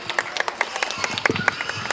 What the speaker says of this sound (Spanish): Vamos a pedir un fuerte aplauso